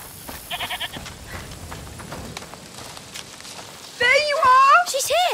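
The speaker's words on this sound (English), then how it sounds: "Listen. Is that the goat he talked about?" Goat bleating in the video game A Plague Tale: Requiem, a loud, wavering series of bleats near the end, preceded by quieter game sounds and speech.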